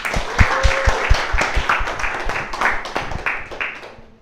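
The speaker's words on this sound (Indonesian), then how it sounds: "tolong tepuk tangan untuk game show host dan sepupu gua, Cliff Dalobes" Audience claps for a game show host at a live show, a lively burst of many hands with some sharp individual claps standing out, gradually thinning and fading out.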